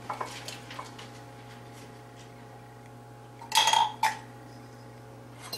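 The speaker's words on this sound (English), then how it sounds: "You take 1 egg, crack it into a bowl" An egg is cracked into a bowl for a bread glaze, a few light taps and clinks of shell against the bowl, then a sharper cluster of cracking and clatter, close and quiet, with no talking.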